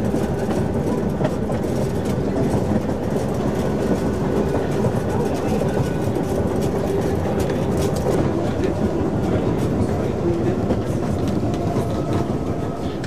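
A Wengernalpbahn 800 mm gauge rack railway train running near Wengen, Switzerland, a steady loud rumbling roar with rattling throughout, continuous and close, with a voice talking over it.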